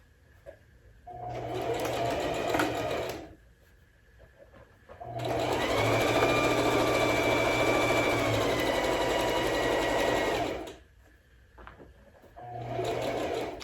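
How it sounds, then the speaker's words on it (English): A sewing machine stitches a pocket pillow seam in three runs, short, then a longer steady burst, then short again, with brief pauses between, close and clear. "At the sewing machine, I'm going to stitch just shy of that 1/2 inch seam allowance"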